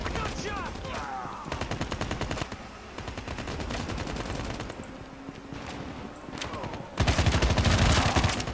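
Automatic and rapid gunfire bursts from a Call of Duty match, loud and dense, with repeated volleys and a heavier burst near the end, over steady game background noise.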